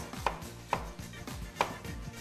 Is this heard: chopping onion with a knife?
yes